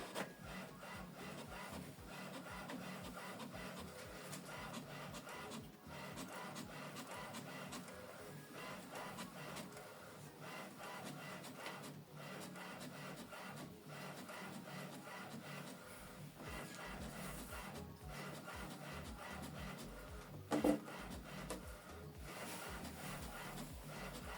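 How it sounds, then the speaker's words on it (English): An HP Smart Tank 5108 printer prints a document, giving a faint, steady mechanical whir and rubbing churn that runs unbroken for over twenty seconds, with a brief clunk near the end and no voices. "This is the second document we printed out."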